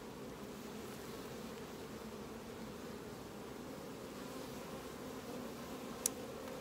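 Honeybees at a beekeeper's apiary hum in a low, steady, even drone that fills the whole stretch, with one brief sharp tick near the end.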